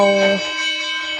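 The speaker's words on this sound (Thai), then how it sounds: "เสียงที่เราได้ยินเป็นเสียง ระฆังอ่ะตอนนี้พระกำลังบินทบาท" A temple bell rings during the monks' morning alms round in Chiang Khan, a short bright strike with layered overtones that fades quickly.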